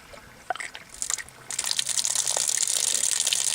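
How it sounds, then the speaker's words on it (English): Water gushes out of a camper's fresh water drain fitted with PEX tubing, starting with a few splashy bursts and then settling into a steady, close, continuous rush. "Water draining out."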